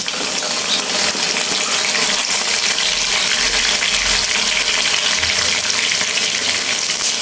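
Water poured into a hot pan of frying chili and cumin paste for a spicy liver bhuna, giving a loud continuous sizzle and gushing hiss with steady stirring, no talking.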